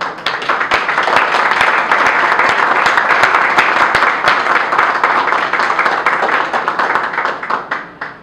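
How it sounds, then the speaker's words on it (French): Applause from a Congolese audience gathered in New York for a woman political party leader, a burst of many hands clapping that swells, holds and then tapers off near the end. "Essayez d'applaudir pour notre sœur."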